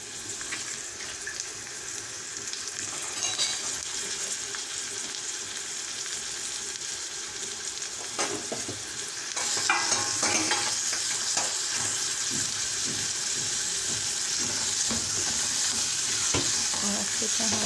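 Finely chopped tomatoes sizzling in a pan while being stirred: a steady, close frying hiss throughout, growing louder partway through, with occasional scrapes and clinks of the spoon.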